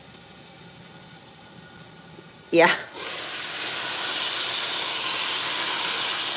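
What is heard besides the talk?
chicken sizzling in a pan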